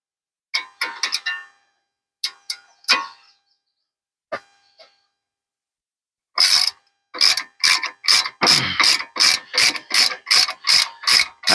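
Socket ratchet working on the tie rod adjusting sleeve of a 2010 Jeep Wrangler, with a few scattered clicks followed by a rapid, loud run of close metallic ratcheting strokes.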